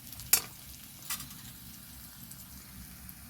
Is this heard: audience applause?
no